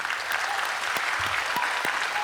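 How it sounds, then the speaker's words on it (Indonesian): Applause from the audience at a colossal musical drama stage show, a continuous dense patter of many hands clapping, steady and even from start to finish with no speech over it. "Tepuk tangan."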